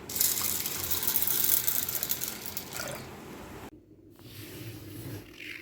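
Water gushes and splashes into a container of chana dal set to soak, loud and close for about three seconds before cutting off, followed by quieter clinking and handling noises.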